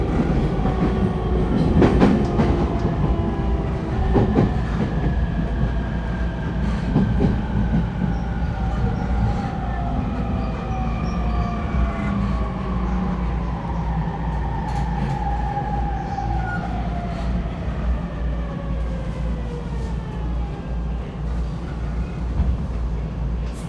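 A refurbished E231-1000 series commuter train runs on the Shonan-Shinjuku Line rapid service between Oyama and Akabane, with a steady rolling rumble from the cabin and traction motor whines that rise and fall in pitch throughout.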